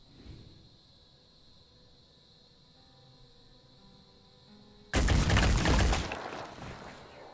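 A loud, short burst of gunfire in the video game Phoenix Point, a dense volley that erupts suddenly after a quiet stretch of low ambient hum, then fades.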